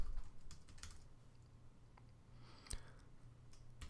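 Keystrokes on a computer keyboard while searching a county GIS mapping site, a few scattered, fairly quiet clicks over faint room hum with no talking.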